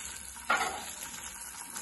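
A quick spatula stir of pav bhaji and pav in a buttered pan, a single soft scrape and sizzle burst rising over a faint frying hiss, quiet and close.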